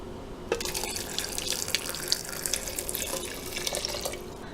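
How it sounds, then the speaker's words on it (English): A cup of water poured into a blender jar holding cashews, a steady splashing trickle that starts abruptly and runs continuously, close and moderately quiet. "So now I'm gonna go ahead and add 1 cup of water to our cashews."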